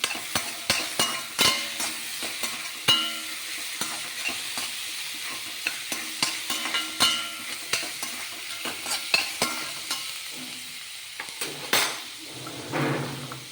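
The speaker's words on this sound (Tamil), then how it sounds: "இப்போ கொஞ்சம் கருவேப்பிலை, தக்காளி போட்டுக்கலாம்" Curry leaves and tomato fry in a pan for a bitter gourd kulambu, with steady sizzling under frequent clinking stirs and spoon taps against the pan, close and fairly loud throughout.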